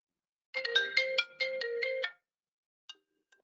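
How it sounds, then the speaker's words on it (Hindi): A phone ringtone plays a bright repeating electronic melody for about two seconds, loud and close, then cuts off, leaving only faint brief notes. "हाँ डन, मैं फोन करता हूँ।"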